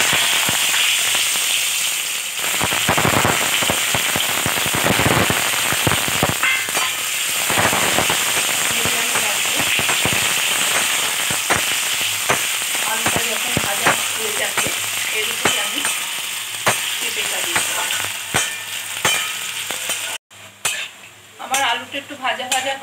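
Potatoes sizzle and crackle loudly in hot oil with fried cumin, a dense, steady frying hiss that runs unbroken for most of the stretch before briefly cutting out near the end.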